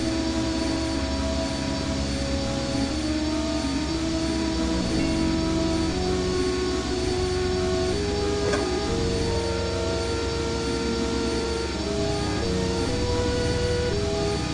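An engine runs in the video game I Have No Mouth, and I Must Scream, a constant loud droning hum with faint whirring tones that holds steady throughout.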